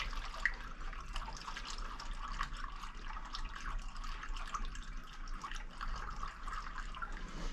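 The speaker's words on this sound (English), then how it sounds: "We're going to go ahead and top this thing off with a little bit of water to replace the coolant" Water poured into the coolant reservoir of a Ford Mustang GT350 as a top-off, a steady moderate trickle and splash continuing throughout with no talking.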